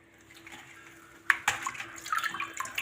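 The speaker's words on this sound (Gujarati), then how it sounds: "આપણે આ રીતે વાસણ લેલું છે તેમાં આપણે ધોઈ નાખ્યું છે" Quiet at first, then a sudden splash followed by continuous sloshing and swishing of water as dusty leafy greens are washed in a vessel.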